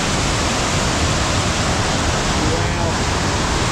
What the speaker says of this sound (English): So this is the river.